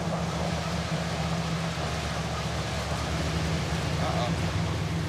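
Heavy rain roars against a car driving on a flooded highway, a dense continuous wash with low engine and road rumble underneath.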